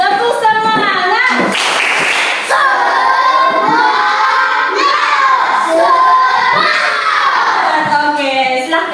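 A group of schoolchildren in a Catholic religious education class stand and perform a rhythmic spirit clap, clapping in patterned beats while chanting together loudly and continuously, with excited voices throughout.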